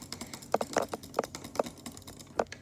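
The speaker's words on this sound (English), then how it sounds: "I'm clicking butterfly clicking right now" Rapid butterfly clicking for Minecraft Hive PvP sounds as fast, irregular clicks and clacks, loud and close, with rattling bursts piling up over a low background hum.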